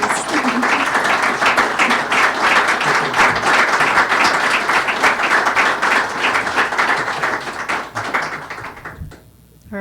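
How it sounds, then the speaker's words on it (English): Applause from the audience at a superintendent-of-the-year finalists event, dense and steady, fading at the end. "Can we give them a round of applause, please?"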